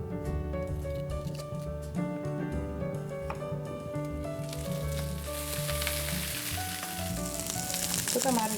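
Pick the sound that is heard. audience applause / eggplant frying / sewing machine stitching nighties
eggplant frying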